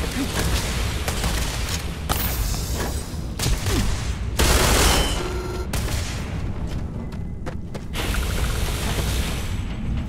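Heavy weapons fire in Starfield, with dense bursts and booming shots alongside clanking mechanical noise, loud and continuous throughout.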